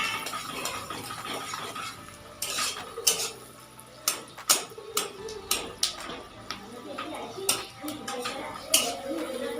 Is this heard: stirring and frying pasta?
yes